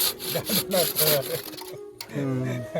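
Hand saw strokes rasp through a laterite stone block, several close gritty back-and-forth passes with a brief pause, while a voice talks over part of the cutting.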